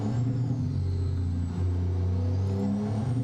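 Truck engine running with the Z-Mods DD60 engine sound in American Truck Simulator, a deep steady diesel rumble with a slight dip in revs partway through, heard alone.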